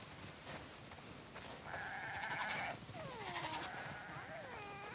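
Sheep bleat repeatedly in the video game The Last of Us Part II, a flock calling in several overlapping, wavering cries of moderate loudness over a steady ambient background, with no talk.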